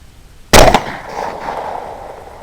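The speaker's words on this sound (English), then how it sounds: "Nice long shot." A single sharp rifle shot rings out during a nighttime beaver hunt, loud and sudden, followed by a brief echo that fades slowly across open ground.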